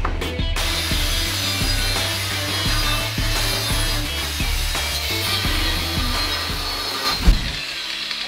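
A wearing cutting disc grinds through steel in a DIY trampoline-scooter build. The loud, continuous, close-up roar and whine holds steady throughout, with a sharp knock near the end.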